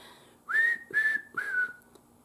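A person whistles three short rising-and-falling phrases meant as a song, close and fairly clear against quiet room tone.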